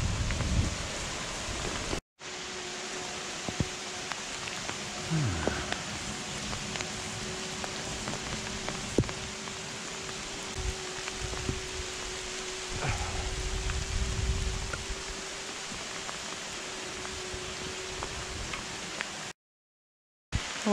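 Steady heavy rain hisses continuously during an electric gravel bike ride, with scattered drops and ticks over a low rumble, no voices.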